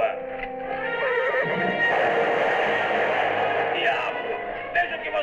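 A horse gives a loud, shrill whinny that trails off, with a few faint hoofbeats and a voice in a dubbed television drama scene.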